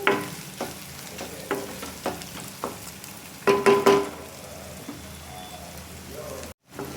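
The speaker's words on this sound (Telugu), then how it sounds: "అల్లం వెల్లుల్లి పేస్ట్ పచ్చివాసన పోయేంత వరకు ఇలా ఫ్రై చేసుకోవాలి" Ginger garlic paste sizzles steadily in a pan for potato kurma while a spoon stirs it, with periodic scraping strokes, a brief burst of louder clattering midway and a short gap near the end.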